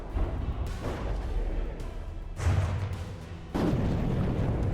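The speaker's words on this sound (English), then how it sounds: "they have really tiny rockets here, and just sending a barrage of rockets" A microfighter unleashes a barrage of tiny rockets in the naval video game Sea Encounters, a string of booming launches and blasts arriving in loud rumbling bursts over a constant low roar.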